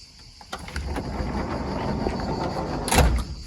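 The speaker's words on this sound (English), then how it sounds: "So let's open the sliding door here." A plastic sliding door on a Lego Volkswagen T2 camper van slides open with a brief, close click and scrape over steady background noise, with a sharper snap near the end.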